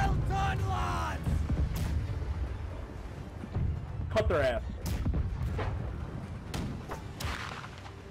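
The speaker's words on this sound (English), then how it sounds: "Fire right side cannon." Ship cannons firing in the Blackwake naval game, several deep booming shots scattered across the stretch amid crew shouting and ongoing talk.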